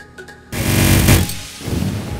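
Rapid burst gunfire fired with an autoclicker in the Roblox game Mad City: after a brief quiet start, a dense, loud, sustained rattle of shots fills the clip, close and booming, then eases slightly toward the end.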